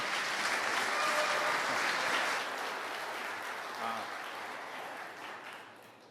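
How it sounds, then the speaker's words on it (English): A large conference audience of around 300 people applauds a speaker at a cyber resilience event, a soft, distant wash of clapping that slowly fades out. "Give him a round of applause, Garrett Young."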